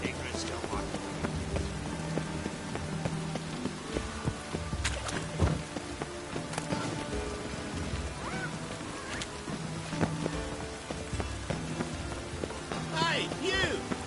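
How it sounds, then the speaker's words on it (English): Steady rain in The Witcher 3, a constant hiss of drops falling on surfaces through the whole stretch, with occasional thuds and faint game chatter mixed in under the downpour. "Rain was coming."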